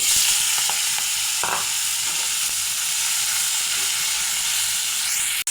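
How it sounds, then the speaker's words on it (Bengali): Loud, constant sizzling and hissing of salt-and-turmeric-coated fish, mostly heads, frying in hot mustard oil, close up, with a few faint clinks and no talking. "তেলও গরম হয়ে গেছে, লবণ হলুদ মাখা মাছ দিয়ে দেব।"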